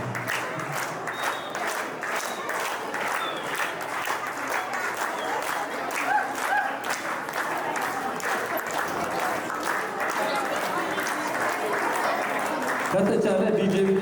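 A community audience at a youth football academy event applauds steadily throughout, a dense wash of clapping with some crowd noise. Near the end, music and voices come up beneath it.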